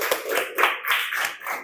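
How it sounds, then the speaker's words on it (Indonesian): A class of students clapping together in a classroom after a presentation, a short burst of loose, uneven claps with a few sharper taps, close and moderately loud. "Tepuk tangan untuk kita semuanya"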